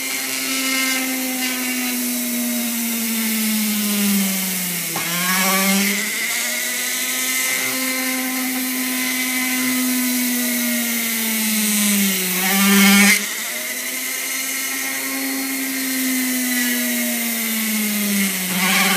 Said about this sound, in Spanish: siguiente es hacer las 3 perforaciones de los puntos marcados que tengo ahí